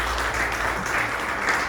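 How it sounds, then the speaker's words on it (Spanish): A church congregation claps in praise at a sermon, a dense, steady wash of applause filling the room from start to end without pause. "Démosle palmas"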